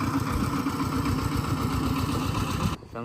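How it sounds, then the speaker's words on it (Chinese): A tractor engine runs close by with a steady, rapid low chugging throb and mechanical clatter, loud and unbroken for nearly three seconds before cutting off abruptly near the end. "拖拉机"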